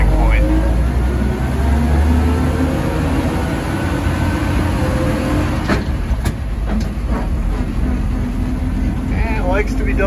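A 1940 Chevrolet 1.5-ton stake bed truck pulls away, its engine holding a steady, loud low rumble as it gets moving, with scattered knocks and rattles from the body along the way.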